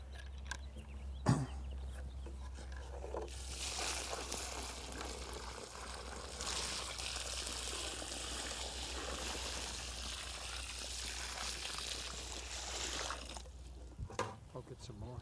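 Water pours steadily onto soil in a freshly dug tree hole about three feet wide and deep, a broad continuous splashing wash that runs for about ten seconds and then stops, with faint talk at the start and end.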